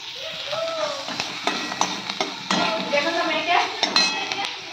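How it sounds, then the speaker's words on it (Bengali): Pots and a metal cooking pan clink and scrape repeatedly as fish curry with fried chillies is poured out. The sharp metallic knocks are close and uneven, over a low kitchen background. "এই তরকারিটা আমি ঢেলে দেবো।"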